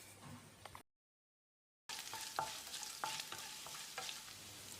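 Ginger and cashews stir-fried in a pan, soft sizzling with scraping stirs and light clinks, interrupted by a second of silence before resuming close and quiet.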